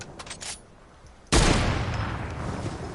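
A sudden burst of loud, sustained gunfire from Fortnite Save the World erupts after a quieter stretch of scattered impacts, continuing as a dense, heavy roar to the end.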